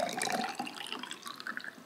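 Water is poured into a plastic science lab toy, a steady soft splashing and trickling that goes on throughout, fairly faint.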